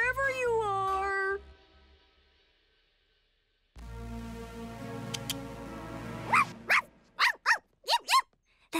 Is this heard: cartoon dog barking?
yes